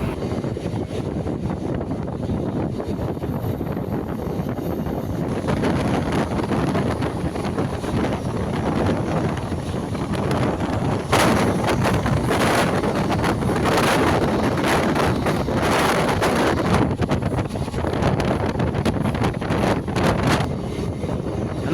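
Passenger train bound for Vellore Cantonment running after departing Anvarthikhanpettai station, heard from on board as a continuous loud rumble with wind buffeting the microphone and rattling bursts in the second half.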